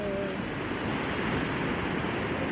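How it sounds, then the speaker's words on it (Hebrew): Ocean surf at a surf spot with low, fast, closing waves makes a loud, steady, unbroken roar, blended with wind rush and no distinct individual breaks, and no one speaking. "איזה ים, איזה גל."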